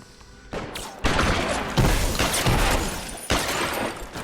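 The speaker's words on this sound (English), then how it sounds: "Oh, who's shooting me? From where?" Repeated gunshots crack out in an LA Noire shootout, loud and close, several sharp reports spaced about a second apart with some echoing between them.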